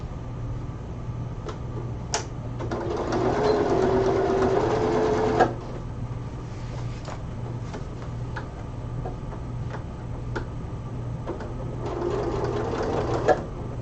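A sewing machine runs two bursts of steady, rapid stitching around a seam of a Freya cosplay top, with quiet pauses and a few clicks between the passes.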